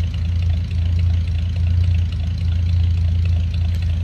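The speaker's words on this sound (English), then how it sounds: "Sounds like a little flatty rumble coming out of the dual exhaust." A 1953 Ford F100 pickup's flathead engine idles close by through dual exhaust, a loud, steady, deep rumble with a continuous throb and no talking.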